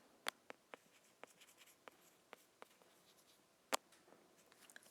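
Marker strokes on a board while a circle diagram is drawn, a dozen or so quiet, sharp taps and scratches spaced irregularly, with two louder strokes standing out, alone in a hushed room.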